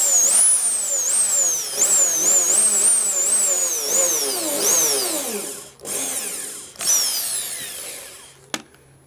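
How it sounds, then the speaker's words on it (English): A cordless drill drives screws into wood in repeated bursts, its pitch rising and falling as it speeds up and bogs down, with brief pauses near the end. "The only thing I'm worried about is drilling into other screws."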